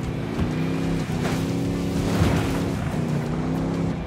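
A car engine drones steadily in the open-world shooter Ghost Recon Wildlands, its tone rising and falling slightly as the vehicle is driven, loud and close with no talk over it.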